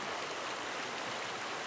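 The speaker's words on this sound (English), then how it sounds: "It's an absolutely beautiful creek here." A fishing creek in spring flows with a constant broad rushing wash, steady and fairly close, with no voices over it.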